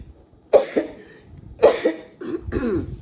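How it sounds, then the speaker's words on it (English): Three harsh coughs a second or so apart, the last a drawn-out raspy hack, fairly close with quiet gaps between. "I'm gonna cough just thinking about it."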